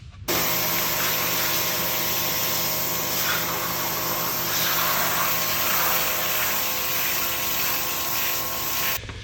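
A shop vacuum runs continuously at close range, a loud, steady whining roar that starts abruptly and holds for several seconds.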